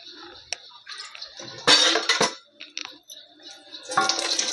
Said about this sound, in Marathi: असं झाकण ठेवून देते त्याच्यामध्ये.